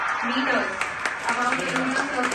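ISRO scientists applaud after the Chandrayaan 3 descent phase, a dense patter of clapping running steadily beneath a clear spoken broadcast commentary.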